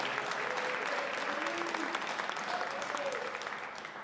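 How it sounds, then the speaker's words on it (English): An audience at a medical supply distributor event applauds steadily for a man named Dennis, a dense, continuous wash of clapping at moderate distance throughout. "We're clapping for Dennis."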